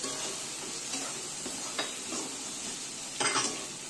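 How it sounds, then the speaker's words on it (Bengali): Ground cumin, black pepper and coriander are stirred and fried with peas in a pan for veg chow mein, a faint soft sizzle with occasional quiet scrapes of a spatula. "এটা ভালো করে নেড়ে চেড়ে নেব"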